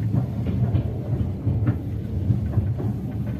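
A passenger train rolls along the rails in May 2023, heard from inside a carriage as a steady low rumble with faint periodic clacks, continuous and fairly loud throughout.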